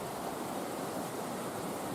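High, rough ocean waves pound the shore at a fishing village in Merauke during bad weather, a steady, loud, unbroken roar of surf with no pauses and no voices.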